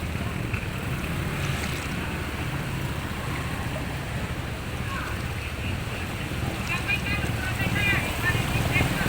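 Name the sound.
wavy floodwater while wading, Macabebe Pampanga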